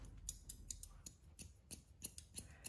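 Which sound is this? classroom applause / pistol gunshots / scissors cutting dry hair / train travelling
scissors cutting dry hair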